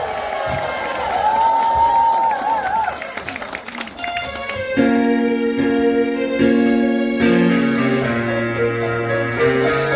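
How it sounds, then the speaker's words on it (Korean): Audience applause and cheering for a trot singer at a singing class event, with a broad crowd roar and clapping mixed under music that swells in with sustained tones partway through. "큰 박수와 함성 부탁드리겠습니다"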